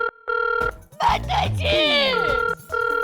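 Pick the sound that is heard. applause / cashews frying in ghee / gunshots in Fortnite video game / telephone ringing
telephone ringing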